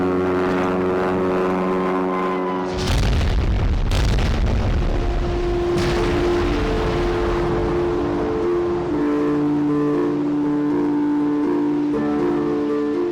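A 2,000-pound aerial bomb dropped from a plane bursts on a captured German battleship. A steady propeller-plane drone gives way to loud, deep booming blasts and a long rumble, with the engine hum returning alongside; no one speaks.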